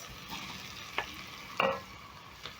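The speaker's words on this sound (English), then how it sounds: "Stir in the tomatoes and cook for around 2 minutes until mushy." Tomatoes stirred in a stew pot, a soft low simmer under a few sharp scraping knocks of a spoon against the pot, close and fairly quiet.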